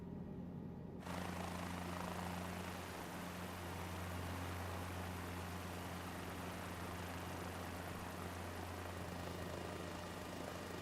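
Helicopter hovering at zero airspeed out of ground effect in Microsoft Flight Simulator 2024, a steady droning rotor and engine hum that starts abruptly and holds constant at low volume.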